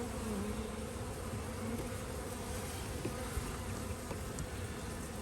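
A dense, steady hum of many honey bees at an apiary hive carries on unbroken, soft and without any voices.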